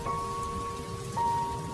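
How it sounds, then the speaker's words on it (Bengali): Heavy rain pours steadily outside on a dark night, a dense, even hiss with low rumble, while sustained musical tones from a ghost-story soundtrack play over it; no one speaks. "বাইরে আবার জোর বৃষ্টি শুরু হলো।"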